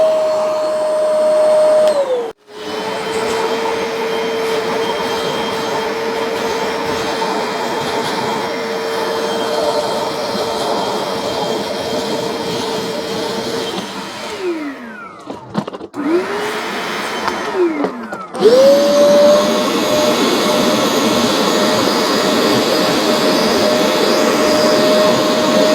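A carpet spot cleaner, either a Bissell Little Green Pro or a Hoover Spotless, runs with a loud steady motor whine and suction roar, briefly cutting out and dipping in pitch twice before restarting.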